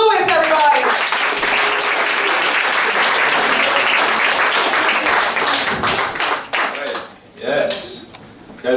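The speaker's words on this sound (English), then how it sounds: "Give it a big round of applause for Colin Lewis, everybody." Comedy club audience at a Broadway stand-up show breaking into loud, sustained applause and clapping for a comedian, dense and close, then thinning out near the end as a voice cuts in.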